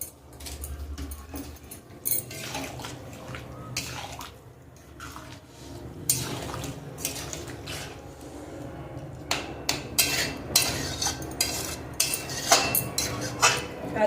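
Prawns being stirred through jackfruit curry in a pan, the utensil giving repeated light clinks and scrapes against the metal over a steady low simmer, with no voices.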